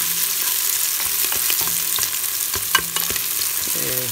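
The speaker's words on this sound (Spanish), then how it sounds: "Se sofría el ajo y la cebolla." Garlic and onion sautéing in olive oil for pumpkin soup, a loud continuous close sizzle with a few spatula taps and scrapes, no speech.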